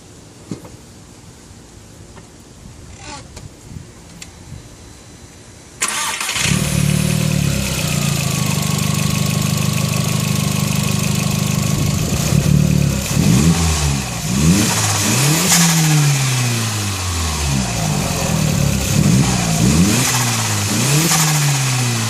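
A VW Jetta GLS engine cranks and fires after a quiet stretch, then idles loudly up close before being revved repeatedly in rising and falling sweeps.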